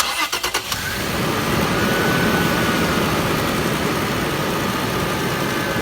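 Toyota Land Cruiser 4 liter V6 VVTi petrol engine cranking with a few quick starter pulses, then catching and settling into a loud, steady idle heard up close.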